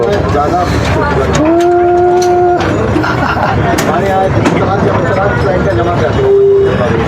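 A mini ride-on train runs through Cubbon Park in Bangalore, giving a loud, steady rumble with a sustained horn-like tone, while people talk throughout.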